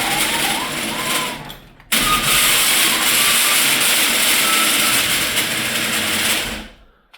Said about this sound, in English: I'll just let you hear what this thing sounds like real quick.